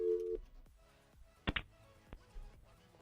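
On a radio call-in show, a short steady telephone line tone sounds at the start, then soft clicks and a brief sharp click burst mid-way, all fairly faint.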